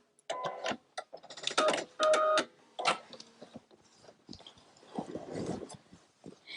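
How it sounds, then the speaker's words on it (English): A sewing machine stitches a tote bag edge down to the end of its fusible fleece lining, several short, separate bursts of close mechanical whirring with brief pauses between runs and no talking. "I am going to sew down here to the end of my fusible fleece"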